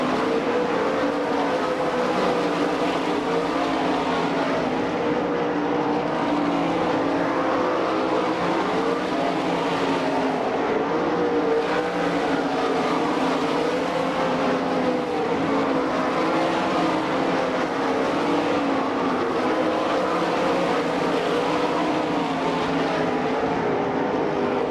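Sprint race cars roar around a dirt track at an All Star Circuit of Champions race in Franklin, Pennsylvania. The engines make a loud, steady, unbroken drone that rises and falls slightly for the whole stretch, with no talking heard.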